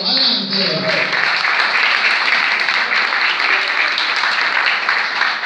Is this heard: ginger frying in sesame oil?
no